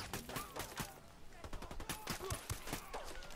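Gunfire in the tactical shooter Ghost Recon Wildlands rattles in rapid, repeated bursts at moderate volume, dense and continuous throughout with game effects mixed in.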